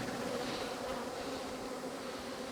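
A swarm of honeybees hums in a steady, soft buzzing drone, faint and continuous, with no voices over it.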